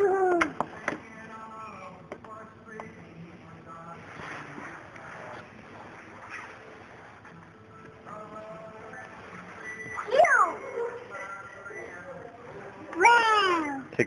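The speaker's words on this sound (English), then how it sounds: "Wow. It's a kitty." A cat meows a couple of times, rising calls standing out over steady background murmur while people talk nearby.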